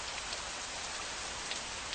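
Steady rain pours down in a dramatized film scene, a dense, even hiss of falling water with scattered drop patters, continuous and unbroken, with no voices.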